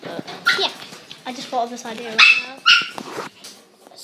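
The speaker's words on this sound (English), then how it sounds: "Sorry my dog's barking." A dog indoors gives a series of sharp yips and barks mixed with whimpers, loud and close, while a person talks over them.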